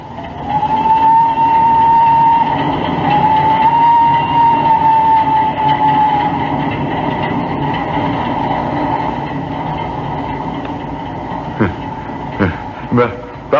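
A train runs along in an old-time radio drama sound effect, a steady low rumbling clatter with a drawn-out whistle-like tone early on, then a few sharp knocks toward the end.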